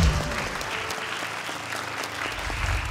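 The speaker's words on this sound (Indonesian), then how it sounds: "Boleh tepuk tangan untuk Zubair Gresik" An audience breaks into loud, sustained applause after a Quran recitation by a contestant, Zubair Gresik, at a televised recitation competition, dense clapping filling the hall throughout.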